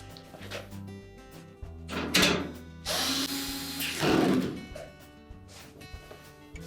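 A power tool drives two screws into the front of a GE washer during an inner tub hub repair, giving a few loud whirring bursts with metallic clatter between them, heard close up.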